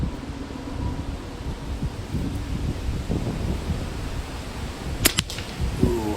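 Two sharp shots from a Winchester 1977XS air pistol firing slugs at a target 25 yards away outdoors, sounding close together near the end over a steady breezy background hiss.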